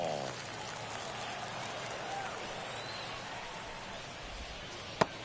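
Rain falling steadily through a rainy baseball game in MLB The Show 24, a soft continuous wash of drops with a single sharp knock near the end.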